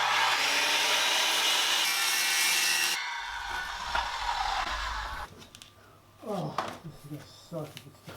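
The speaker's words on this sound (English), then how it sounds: "I might have to just get the circular saw out and make a cut." A circular saw cutting a wooden cabinet frame gives a loud, bright whine for about three seconds, then spins down into quieter workshop rattles while a person talks.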